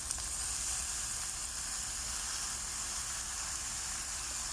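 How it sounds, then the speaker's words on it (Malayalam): Sliced ginger sizzling in a pan of oil while cooking Kerala-style fish nirvana: a steady, dense frying hiss that runs unbroken throughout, close and even in level, with no talking. "ഇനി അതിലേക്ക് കുറച്ച് ഇഞ്ചി അരിഞ്ഞതും ചെറുതായിട്ട് സ്ലൈസായിട്ട് അരിഞ്ഞത് വേണം ഇടാൻ."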